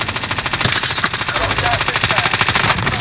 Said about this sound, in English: Oh, I got sniped from behind.